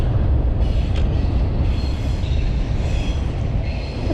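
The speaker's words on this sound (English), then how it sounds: "The train is still going. That's a long train." A long freight train rolls steadily past up close, with a continuous loud rumble of wheels on rails and occasional faint squeals, heard from beside the track near an old bumpy bridge on a rail trail in LaGrange, Georgia.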